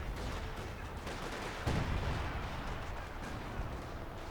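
Rumbling battlefield gunfire from a Company of Heroes 2 4v4 match, steady bursts of machine gun fire with a heavier thump near the middle, dense and continuous, no talk.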